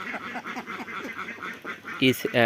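Ducks quacking on a duck farm, a run of loud, close, harmonic calls bursting in near the end after a stretch of steady talking.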